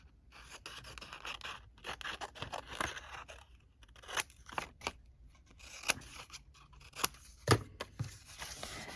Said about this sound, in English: I'm going to trim them a little bit more, just a tiny bit, just around the perimeter.